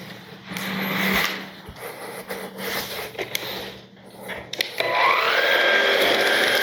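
A 580W cordless stick vacuum cleaner whirs steadily while sucking up hair, with rising and dipping motor pitch, rubbing and scraping as the head moves, then a louder, higher whine at the end.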